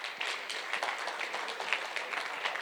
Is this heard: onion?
no